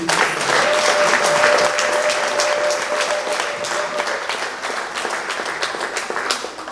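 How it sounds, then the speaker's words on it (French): An audience at a JICA training session in Kinshasa applauds, with dense, loud clapping from many hands that fades gradually over several seconds. "Est-ce qu'on peut l'applaudir?"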